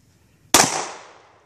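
A single sharp Glock 43 pistol shot at an outdoor shooting range, loud and close, with a long decaying echo trailing off afterward.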